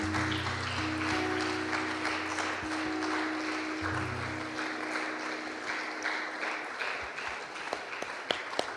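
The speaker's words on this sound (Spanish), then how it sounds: "Dale un fuerte aplauso a nuestro Señor, iglesia." Church congregation applauding their Lord during worship, a dense sustained round of clapping over a low held organ or keyboard tone that fades out midway, leaving the applause to continue with a few louder claps near the end.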